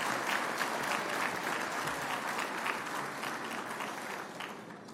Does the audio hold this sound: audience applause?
yes